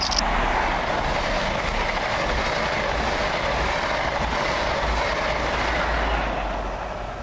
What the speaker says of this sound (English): Coming through just now is a train from London St Pancras to Nottingham